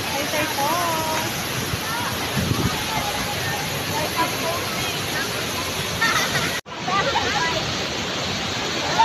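Taytay Falls in Taytay, Rizal, pours in a steady, close, full roar of rushing water that runs unbroken apart from a brief cut near the end, with faint voices mixed into the wash.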